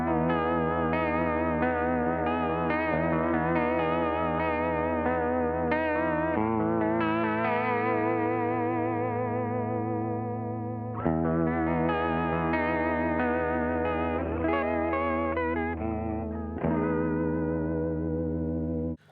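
Electric guitar played through a ZVEX Instant Lo-fi Junky pedal, sustained warbling chords with wobbling pitch modulation and a lo-fi chorus wash, several strummed chord changes ringing out before stopping.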